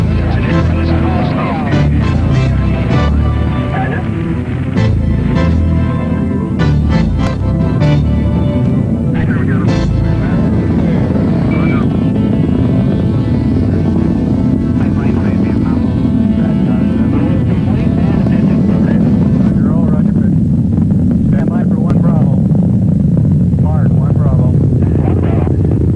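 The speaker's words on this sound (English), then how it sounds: "All engine running. Liftoff. We have a liftoff." A moon-mission rocket roars at liftoff, its engines a deep, sustained rumble that builds and fills the scene for a long stretch, with a voice talking over the noise.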